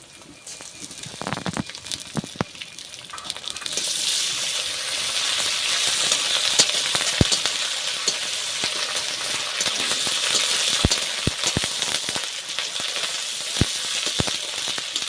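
Ginger paste fries with onion and garlic in a pan, metallic utensil clinks at first, then a dense sizzle settling in, with sharp occasional taps against the pan throughout.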